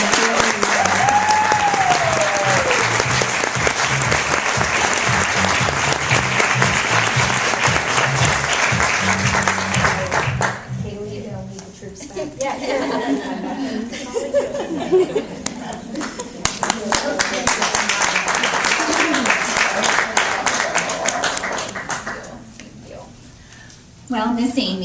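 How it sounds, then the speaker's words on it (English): An audience at an evening event gives sustained, loud applause for ten seconds, fades, then swells into a second long burst before dying away, with voices mixed in at times. "So I just want everyone to give them a round of applause."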